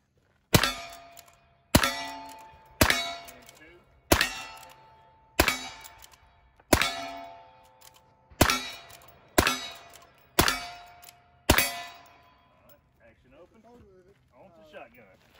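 Rifle shots strike steel targets at an outdoor shooting range in about ten evenly spaced, sharp impacts, each with a ringing metallic decay. Faint voices follow the last hit.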